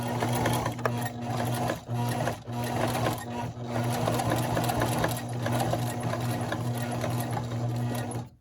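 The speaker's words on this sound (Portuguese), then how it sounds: "a máquina consegue costurar o corino" A sewing machine stitches faux leather (corino) for a tote bag, a steady close mechanical whir with a constant hum, broken by a few brief pauses and restarts.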